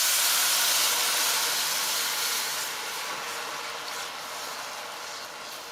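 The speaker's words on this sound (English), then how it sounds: "Now add your water." Water is poured into a hot pan of cooking chili, setting off a loud, broad steaming hiss that gradually fades over several seconds with no voices.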